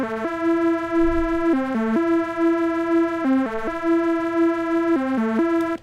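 An expressive MPE synthesizer patch plays a bright, buzzy melodic line, sustaining one held note broken by short stepped dips into lower notes in a repeating pattern, loud and alone.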